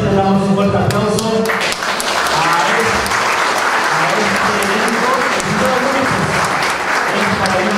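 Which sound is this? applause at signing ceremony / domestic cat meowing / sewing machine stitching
applause at signing ceremony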